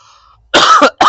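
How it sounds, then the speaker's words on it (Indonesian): Two sharp coughs, the first a harsh burst lasting about a third of a second, the second brief and clipped, loud and close after a faint hum. "Aduh, batuk apa?"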